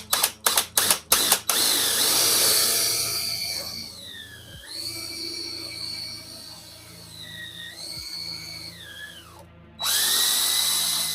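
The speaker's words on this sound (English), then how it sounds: "let's go ahead and drill these holes" A power drill bores holes in a plastic diorama base for a giant tarantula display. A few quick trigger bursts come first, then long whining runs close by, with the motor pitch sagging and rising as the bit cuts.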